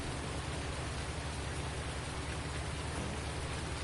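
Steady, dense rain pours without letup in a farming video game on a multiplayer map, a loud continuous hiss with a low rumbling undertone, unbroken and with no voices.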